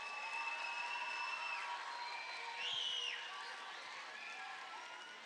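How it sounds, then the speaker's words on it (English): An audience at a school speech competition applauds sixth graders, a continuous crowd of clapping with whoops and cheering voices rising partway through, fairly distant and even. "So let's give our 6th graders a big round of applause."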